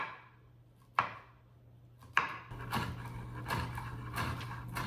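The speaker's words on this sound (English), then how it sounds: "now I'm going to mince up the garlic and slice the green onion" Knife chopping on a cutting board while garlic is minced and green onion sliced: two sharp separate chops, then a quicker run of close, fairly loud cuts over a steady low hum.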